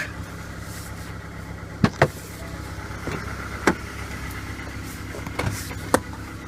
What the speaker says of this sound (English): if you press the 7 and the 0, it'll lock.